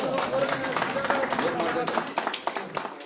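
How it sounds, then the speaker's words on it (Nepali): An audience at an oath-taking and handover ceremony for newly elected office bearers claps in a burst of quick, uneven hand claps. The clapping is fairly close and mixes with someone speaking loudly over it. "ताली पड्काउनु हो ताली पड्काइदिनु न साथी"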